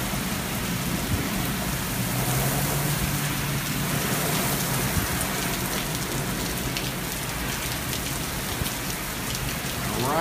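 A severe midday thunderstorm at 86th and Zionsville Road in Indianapolis on July 13, 2015: heavy rain pours down in a steady, dense roar for the whole stretch, with thunder rumbling underneath and no one speaking.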